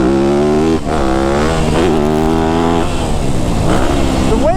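A Yamaha YZ250F dirt bike engine revs hard and close, loud buzzy four-stroke note rising and falling through several throttle blips, no talk.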